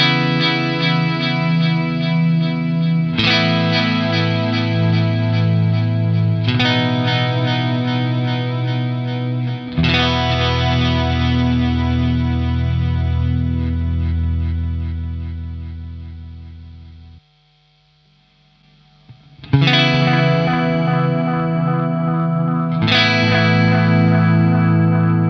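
Electric guitar played through a Boss DD-200 digital delay pedal, sustained chords ringing with repeating echoes and chorus-like shimmer, loud and close, with a brief drop to a quiet tail before strumming resumes.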